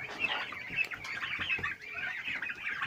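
Young turkeys kept as farm poultry chirp and cluck in a busy, overlapping chorus close by, their short calls repeating irregularly with no talk over them.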